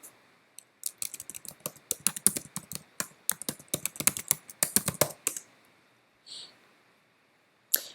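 Someone types quickly on a computer keyboard, a quiet close run of crisp keystrokes in uneven bursts for about five seconds, then a pause and a couple of last taps.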